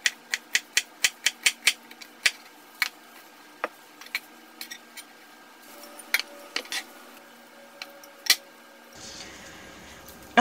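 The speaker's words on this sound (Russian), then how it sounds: "и нарезаю обычными гладкими кусочками." A knife chops a quartered, cored fresh pineapple into pieces on a cutting board: a quick run of crisp, evenly spaced taps, then slower, irregular knocks, all close and clear.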